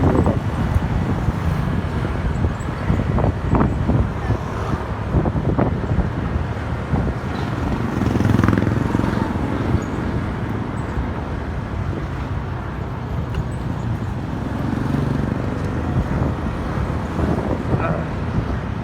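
Motorcycle riding along a road in raw point-of-view, a steady engine and road rumble heavily buffeted by wind noise, continuous throughout.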